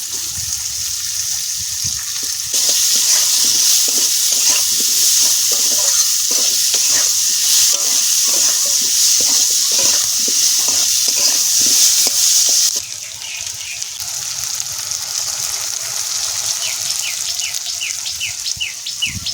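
Chopped onions sizzle loudly in hot oil with turmeric while being stirred, a dense continuous frying hiss with rapid scraping strokes, then a quieter sizzle with faint bird chirps in the background.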